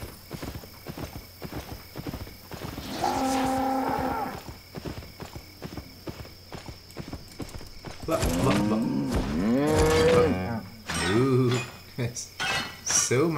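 Cows low in the game Albion Online, drawn-out moos rising and falling over a steady clip-clop of hooves, with clinking and overlapping animal calls crowding the later half.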